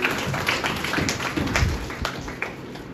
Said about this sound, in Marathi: टाळ्या वाजवून देवाला धन्यवाद